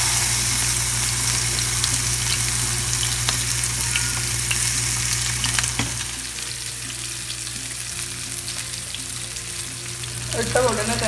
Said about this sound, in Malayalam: ചൂടായി വരുമ്പോൾ നമുക്ക് ഈ ഫിഷ് ഒന്ന് ഫ്രൈ ചെയ്തെടുക്കാം